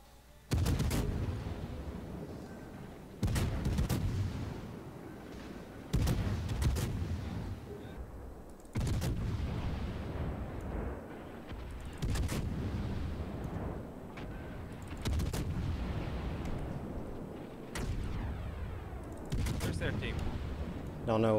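Naval guns firing in World of Warships, heavy booming salvos every few seconds, each a sharp loud blast fading into a long rumbling tail, with players talking between shots.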